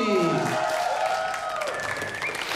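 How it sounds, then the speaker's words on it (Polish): A school-show audience applauds a student contestant taking the stage, steady clapping that carries at moderate volume before fading out, with a bright tone sweeping across it. "Brawa dla Patrycji!"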